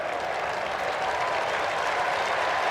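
Continuous roar and applause of a large crowd at an AFL preliminary final between Essendon and Carlton, a dense, steady wash of cheering and clapping with no pauses.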